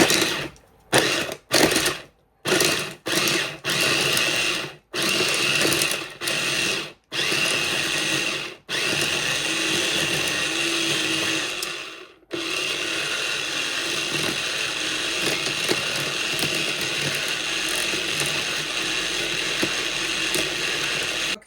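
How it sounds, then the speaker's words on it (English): Electric spice grinder blitzing jerk seasoning spices, several short pulsed bursts of whirring followed by one long continuous grind, loud and close with no talk. "put my top back on, and then we're going to grind."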